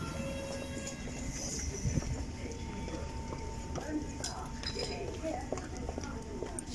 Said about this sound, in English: Off goes the Metropolitan line.